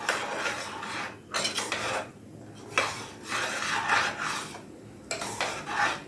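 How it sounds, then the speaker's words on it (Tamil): A utensil scrapes and stirs idly sambar with masala inside a metal pot in several bursts of rough, close scraping separated by short pauses. "இப்போ நல்லா கிளறி விட்டுக்கோங்க."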